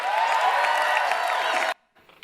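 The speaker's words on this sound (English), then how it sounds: "It's the applause that gets me the worst." A short burst of dense crowd applause and cheering, steady and loud, then cut off abruptly into near silence.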